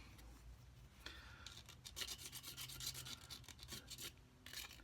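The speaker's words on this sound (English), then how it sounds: "You can use really coarse sandpaper or one of these rough files, anything to just gouge this thing and put grooves into it." A rough file or coarse sandpaper gouges grooves into wood for a cigar box guitar, giving close, quiet rasping strokes that come in rapid repeated bursts.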